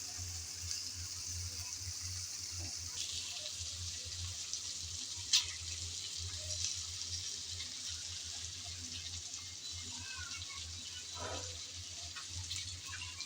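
Shrimp and green chilies frying in a pan for chingri do-pyaza, a faint, steady low sizzle with occasional quiet stirring scrapes and a single small clink.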